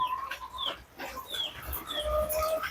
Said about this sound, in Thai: ไก่บ้านครับ ไก่บ้านพันธุ์พื้นเมือง ตัวเลี้ยงลูกอยู่สามตัวนะครับ